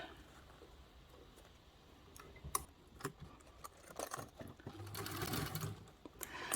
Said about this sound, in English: I'm actually going to continue sewing around the whole edge